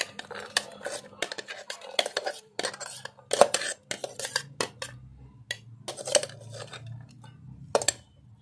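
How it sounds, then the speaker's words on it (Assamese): Coarsely ground raw mango for a pickle is tipped into a bowl, giving close, irregular clinks and scrapes of a utensil against the dish, with brief pauses between the bursts. "এতিয়া মই এটা পাত্ৰত ঢালি ল'ম।"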